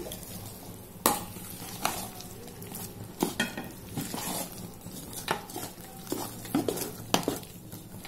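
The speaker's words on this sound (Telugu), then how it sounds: "ఇప్పుడు పిండిని బాగా కలుపుకోవాలండి" Onion and chopped green chilli batter for punugulu is stirred in a bowl, with repeated wet slaps and scrapes of a spoon against the vessel at an uneven, brisk rhythm, close and clear.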